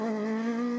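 A Porsche rally car engine screams at sustained high revs, loud and close, a steady tonal howl with no voices.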